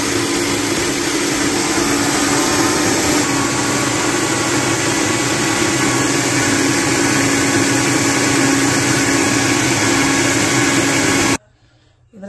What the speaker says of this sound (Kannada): ಇವಾಗ ಗ್ರೈಂಡ್ ಮಾಡ್ತಾಯಿದ್ದೀನಿ.